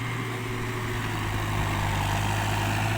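A New Holland T5060 tractor of 106 horsepower runs steadily just after a gear change, its engine giving a constant low drone with a faint whine, close and unbroken for the whole stretch.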